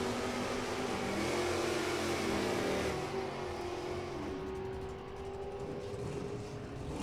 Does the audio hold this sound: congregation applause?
no